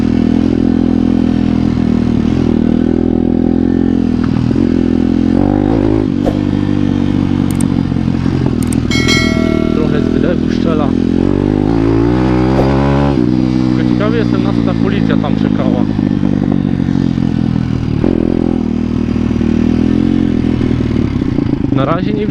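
PitBike 170 motorcycle engine during break-in, a loud continuous engine drone that rises and falls in revs, heard close with rattling and clatter, and someone talking over it.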